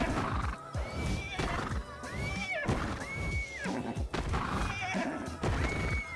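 A horse in ARK Survival Evolved neighs repeatedly, several loud close whinnies with wavering high squeals over hoof clatter and game noise.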